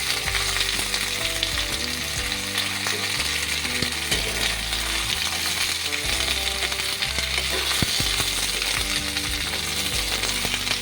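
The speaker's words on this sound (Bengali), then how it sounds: "সব সবজিগুলোই হালকা করে ফ্রাই করে নিয়েছি" Vegetables, drumstick pieces and eggplant chunks sizzle steadily in hot oil, with a loud, continuous frying hiss and occasional scraping of a spatula stirring the pan, close up and without speech.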